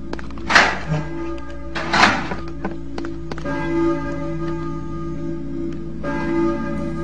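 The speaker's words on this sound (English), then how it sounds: "It's a church bell." A church bell in the video game Silent Hill tolls with a sustained ringing hum, struck again partway through, with a few soft thumps early on and no talking.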